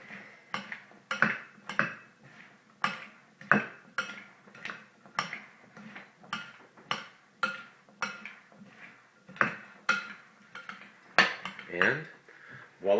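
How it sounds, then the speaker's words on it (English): Chickpea salad with cilantro being mixed in a bowl with a utensil; repeated clinking and scraping strokes in a steady rhythm, close and fairly crisp, with no talking. "So let's go ahead and mix this all up."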